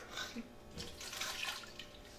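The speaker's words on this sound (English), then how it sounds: "So here's 1/2 cup of pineapple juice into the blender." Half a cup of pineapple juice pours into a blender jar, a soft splashing liquid stream running steadily for a couple of seconds, fairly quiet and close, with no talking over it.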